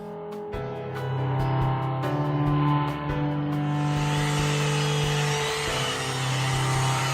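Machine polisher working 3M Perfect-It Machine Polish into car paint on a Ford Expedition, a steady close motor whine with a soft buzzing hum that continues without a break after a brief start.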